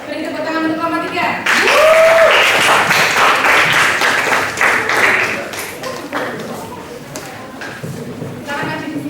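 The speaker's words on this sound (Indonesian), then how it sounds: "Beri tepuk tangan untuk kelompok 3." Students in a classroom clap for their group after a request from the teacher, a fairly loud burst of applause lasting several seconds with some voices over it, then fading to scattered taps and brief talk.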